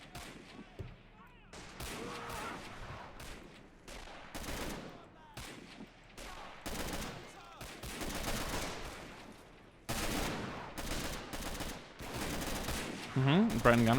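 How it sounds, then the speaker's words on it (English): Bren gun firing suppressing bursts in the World War II game Men of War Assault Squad 2, with dense repeated gunfire and heavy booms throughout and a voice speaking under the shooting. "Listen, with a little bit of suppressing fire."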